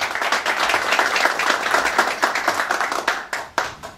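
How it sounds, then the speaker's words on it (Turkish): An audience at a breakfast gathering of Mardin natives in Zeytinburnu gives strong applause, dense rhythmic clapping from many hands that thins toward the end. "güçlü bir alkış istiyorum"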